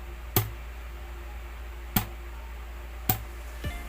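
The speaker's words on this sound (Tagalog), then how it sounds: "Next naman ay yung string slap." Thumb slaps across the 4th, 5th and 6th strings of a guitar in fingerstyle playing, snare-like: three sharp percussive hits spaced about a second apart, then a softer fourth, fairly close and alone.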